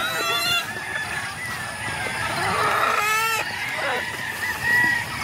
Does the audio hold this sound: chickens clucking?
yes